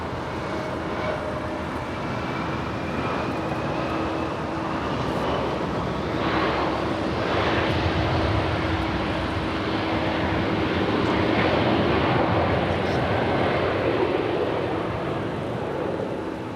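Qantas airliner at Los Angeles International Airport, a steady broad jet roar with a faint whining engine tone, swelling gradually and holding at moderate distance with no talk.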